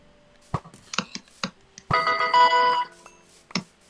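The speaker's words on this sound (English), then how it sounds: "No, my phone just went off." A phone's text message notification chimes as a bright tonal jingle for about a second, surrounded by sparse clicks and taps from a Minecraft game session.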